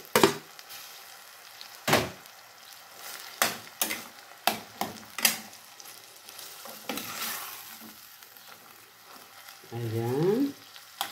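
Fresh tomato is added to a hot pan while cooking pasta. A soft sizzle runs underneath sharp clacks of a utensil stirring and scraping at an irregular pace, close by, and a short rising squeak comes near the end.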